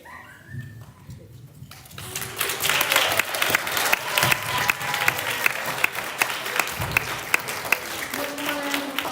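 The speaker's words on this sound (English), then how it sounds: "One more round of applause for Miss August class." A room full of people breaks into sustained applause, claps dense and steady after a brief quieter start, with a few voices underneath.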